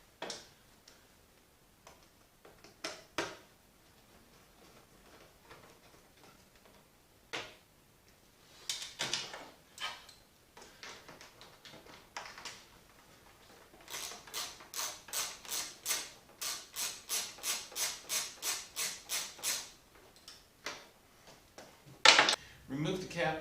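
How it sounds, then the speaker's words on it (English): A 3/8 inch socket wrench ratchets out a headlamp cover bolt on a Polaris vehicle, a run of quick, evenly spaced close clicks after scattered handling knocks and taps. "You'll remove the headlamp cover using a 3/8 inch socket wrench to take this bolt out"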